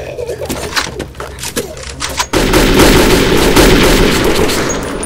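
Video game Metro 2033: a couple of sharp gunshots in a noisy scene, then a sudden sustained loud roar of fire that continues to the end.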